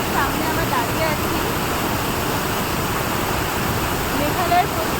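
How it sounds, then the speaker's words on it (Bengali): A monsoon-season waterfall in Cherrapunji, Meghalaya, a dense, continuous roar of falling water filling the whole clip, loud and steady without pause. "অসম্ভব সুন্দর একটা ঝর্ণার সামনে আমরা দাঁড়িয়ে আছি।"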